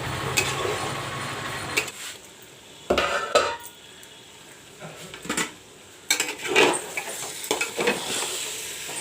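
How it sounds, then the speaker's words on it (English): Mutton fries with spices in a pan, sizzling while a utensil repeatedly clanks and scrapes against the metal, stirring in irregular bursts. "fry the mutton along with the masalas. I will fry the mutton nicely"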